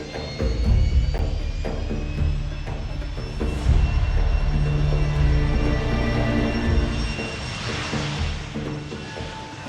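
A Bayraktar Akıncı drone takes off, its engine a loud continuous roar that rises and swells mid-flight, with a whining tone over the rumble.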